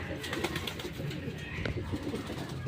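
Homing pigeons cooing softly at feeding time in a backyard loft, low repeated coos layered over light rustling and faint background voices.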